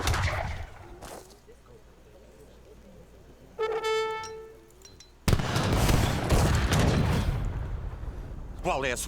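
Cannon and musket fire from a falconet-and-militia battle in Age of Empires 3: a muffled shot, then a loud, sustained burst of overlapping blasts and crackling gunfire, with a brief tonal game cue between.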